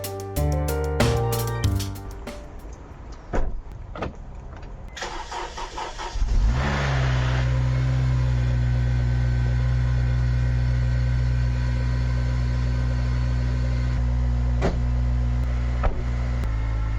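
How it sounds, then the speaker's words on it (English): A Honda Civic Type R FN2 engine cranks and catches, then holds a loud, steady rising drone as the car pulls away, close and with no talking. "this is going to be my first time ever driving a Type R. I'm just going to drive it to the end of the road"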